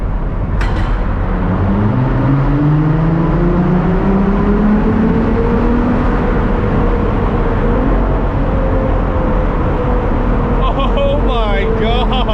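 A LaFerrari's engine revs and accelerates through a tunnel with the windows down, a loud, sustained roar with rising tones that fills the whole stretch while a voice shouts excitedly over it.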